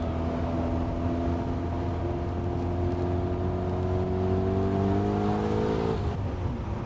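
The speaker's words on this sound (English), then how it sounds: "This is just normal engine sound." BMW E39 M5 V8 under way on a road through open landscape, a smooth, moderately quiet engine hum whose tones rise gradually as it pulls, then ease off near the end, heard from inside with no talk.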